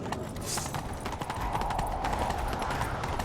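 Hooves clatter in a steady, fast galloping rhythm in The Witcher 3 over a dense, continuous background of game noise, loud and close.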